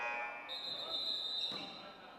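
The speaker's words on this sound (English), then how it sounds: "We've got a buzzer going off here" A sustained high electronic buzzer tone sounds for about a second and a half over crowd noise and speech in a gym during a basketball game.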